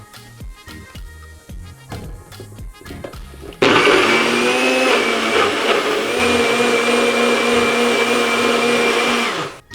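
A blender whirs loudly as it purées a sour orange and tomato smoothie with water, kicking in abruptly after a few seconds of quieter clattering and then running at a steady, high-pitched roar until it cuts off.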